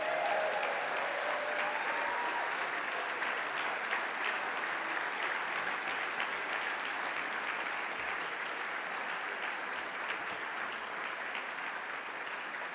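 Large conference audience at the J Street national conference applauding staff members, a long, even wash of many hands clapping at moderate distance, sustained without a break.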